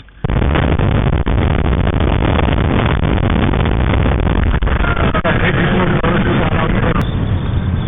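Inside a car cruising on a mountain highway over the Continental Divide in Montana, a loud steady road and engine roar fills the cabin continuously, with no clear talking.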